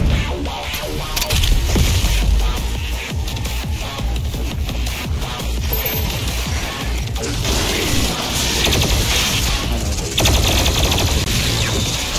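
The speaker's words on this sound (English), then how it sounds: "God, they shoot so many bullets." Enemies in Doom Eternal fire guns amid heavy battle noise, with a dense, loud stream of shots, crashes and mechanical clatter running continuously throughout, and no voice over it.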